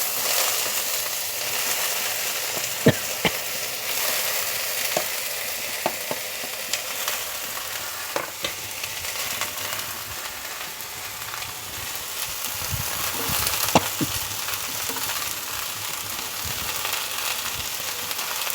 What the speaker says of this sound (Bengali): এখন আমি দিয়ে দিচ্ছি কেটে রাখা টমেটোগুলো